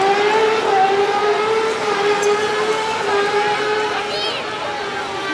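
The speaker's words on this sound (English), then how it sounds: "All the motorbikes are out. But the big ones, they like to rev up." Big motorbikes rev along a busy seafront road in Naples, rising and falling engine whines over steady traffic noise, with a siren-like tone drifting through and a voice talking over it.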